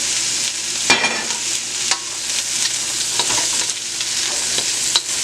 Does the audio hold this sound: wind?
no